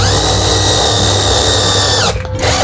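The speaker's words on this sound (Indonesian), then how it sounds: "Ini namanya bor piramid." A power drill with a pyramid bit whines loudly and steadily up close while drilling a Honda motorcycle front brake part, then briefly cuts out before spinning up again.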